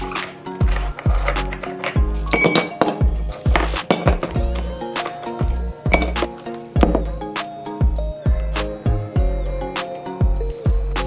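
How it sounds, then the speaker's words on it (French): Ice cubes are dropped into a glass for iced coffee, producing repeated bright clinks and knocks close to the microphone over a steady, low, thumping background beat. "Maintenant on va mettre de la glace."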